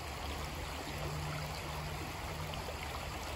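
Creek water flows in a steady, close rushing wash at a gold-prospecting spot. There is no talk over it.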